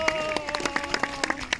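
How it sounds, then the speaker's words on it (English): A crowd watching a birds of prey display at Alnwick Castle gives a brief round of scattered clapping, with a voice speaking over it. "Let's give Ned a big round of applause."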